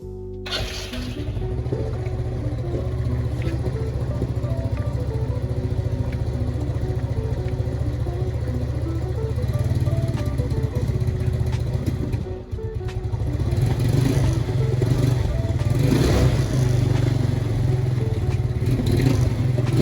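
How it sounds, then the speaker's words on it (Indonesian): Yamaha Mio scooter-style motorcycle fitted with a PE24 carburetor, engine catching and then idling steadily with a constant close low drone and slight clatter, rising briefly in the latter half. "Ini gue pengen nyoba starter sama langsamnya ya."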